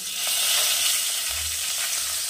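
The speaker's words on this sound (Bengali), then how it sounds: "এবারে এই তেলের মধ্যেই আমি দিয়ে দেবো, আমি এখানে 3টে ছোট পেঁয়াজ একদম কুচি করে রেখেছি" Three small onions, finely chopped, hissing in hot oil as they go into the pan: a steady, fairly loud broadband sizzle, close and continuous, with no talking.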